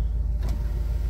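The power moonroof of a V8 car closes at the push of a button, a brief electric motor whir over a steady low engine rumble.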